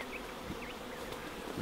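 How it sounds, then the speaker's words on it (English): A swarm of field honeybees, just removed from a tree, buzzes steadily as they fly around in confusion looking for their former home, a dense continuous hum with no talking. "The field bees have come back to where they think home is, but they're flying around"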